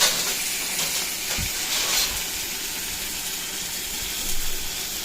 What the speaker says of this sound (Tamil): கூடவே நம்ம முள் எடுத்து ரெடியாக வச்சுருக்க தூதுவளை இலைகளை போட்டு வதக்கணும் எண்ணெயில்